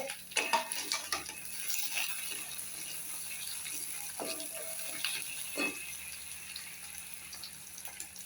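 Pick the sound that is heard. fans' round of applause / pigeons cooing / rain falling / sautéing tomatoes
sautéing tomatoes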